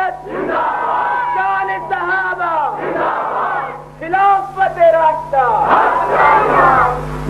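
A crowd at a devotional gathering roars the Nara-e-Takbir slogan in loud, massed voices, with the chant rising in waves and near continuous throughout.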